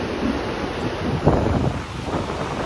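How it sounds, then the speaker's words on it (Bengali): Sea waves on a beach at a resort shore give a broad, steady roar mixed with wind buffeting the microphone, with one slightly louder surge midway and no talking. "ঢেউগুলো দেখেছো কি সুন্দর"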